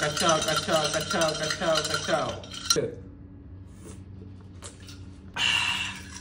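A spoon stirs a sugar-free syrup drink topped with sparkling water, clinking and swirling against the glass after a few seconds of music fade out, with a brighter fizzing clatter at the end.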